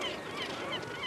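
Dense seabird breeding colony of guillemots, kittiwakes, razorbills and gulls, a continuous overlapping chorus of harsh honking and squealing calls from many birds at once, steady and fairly near with no talk.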